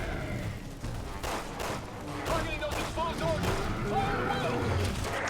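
Sniper gunfire in the video game Resident Evil 6, with repeated cracking shots mixed into dense in-game action and effects, loud and continuous, while someone talks over it.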